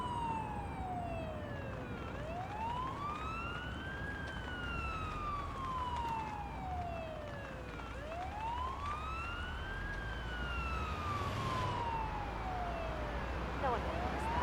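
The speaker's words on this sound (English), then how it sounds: "Use the siren as needed." A video game ambulance siren wails, rising and falling in long, slow sweeps, repeating steadily over a low engine-like rumble, loud and close, with no talking.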